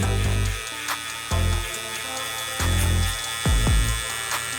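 An electric barber hair trimmer buzzes in bursts while cutting away bulk during a high taper haircut, switching on and off in short passes with a steady hum between.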